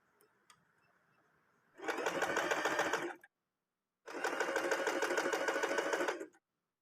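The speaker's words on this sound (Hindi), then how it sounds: "सीधी सिलाई लगाने के बाद हम फिर से जिगजैग सिलाई लगाएंगे।" An Usha sewing machine running zigzag stitching at width 5 on cloth, in two separate bursts of rapid, even mechanical whirring and clatter of about one and a half and two seconds. Near silence surrounds the bursts.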